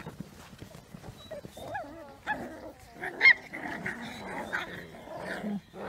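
Puppies playing outdoors in fine weather, giving small yips, whines and soft barks with scuffling in between, close and fairly quiet.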